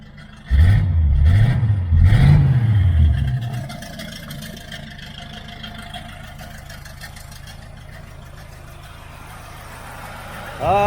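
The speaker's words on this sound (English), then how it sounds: "The engine is nice and quiet now." A 1978 Chevrolet Nova V8 with headers and a new true dual exhaust revs in a few loud, rising and falling bursts up close, then settles into a steady low, rumbling idle before a brief sharp noise at the end.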